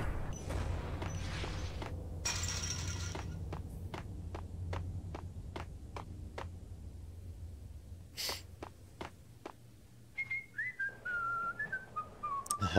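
Short whistled tune from a character in the video game Max Payne, entering near the end after a run of sharp footsteps and game sounds over a low rumbling background.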